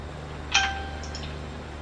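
A short bright chime from a mobile phone notification rings once over quiet background hum, with a faint second ping trailing shortly after.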